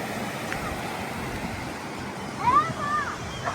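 Steady wash of ocean surf and wind noise on a beach in Sarasota, Florida, with a few faint distant voices rising briefly near the end.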